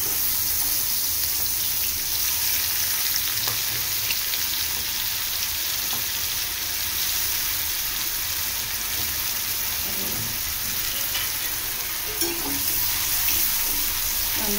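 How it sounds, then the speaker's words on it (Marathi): Chopped onion fries in hot oil for an egg curry, producing a dense, continuous close sizzle with a bright hiss and occasional light crackles and spoon clinks, steady and loud, no voices. "कांदा थोडे शिजून घेऊया आपण."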